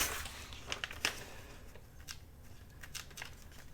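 Scissors snip through laminated paper napkin in a quiet room, with a few soft, crisp cuts and light crinkles spaced irregularly and faintly heard up close.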